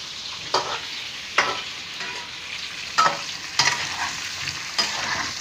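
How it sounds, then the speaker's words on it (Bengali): Potatoes fry in a home kitchen pan with a constant close sizzle, broken by several sharp spatula stirs and scrapes at irregular intervals. "আলুগুলোকে এবার ফ্রাই করে নিচ্ছি।"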